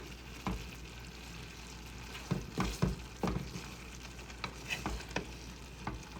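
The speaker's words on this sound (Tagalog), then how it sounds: "Ginisa ko sa bawang, kamatis." Sweet potato tops sauté in a pan with garlic and tomato, a steady close sizzle broken by repeated scraping and clacking stirs of the utensil against the pan.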